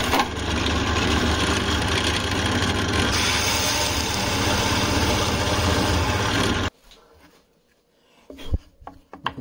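A drill press runs with a loud, steady drone for several seconds in a workshop, then cuts off abruptly, leaving a quiet room with a few clicks and knocks.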